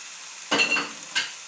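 Strips of chicken breast hit a hot pan of peppers and onion and sizzle briefly. Two short stirring scrapes stand out over a faint, steady frying hiss.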